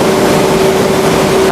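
An automatic furniture panel cutting machine runs on a factory floor, giving off a loud, steady motor drone with an even mechanical hum and no pauses.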